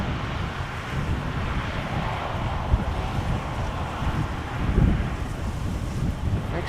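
Wind buffets the microphone outdoors at Schiphol Airport, a loud continuous low rumble and roar with gusty swells and no clear talk.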